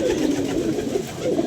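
A pigeon coos in low, soft repeated calls close by, steady and unaccompanied by talk, at a pigeon flying competition.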